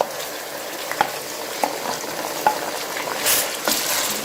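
Tomatoes tipped into onions frying in a pan for Afghani Kabuli pulao give a steady close sizzle, with a few sharp clinks of a spoon stirring and a brief louder hiss of steam near the end.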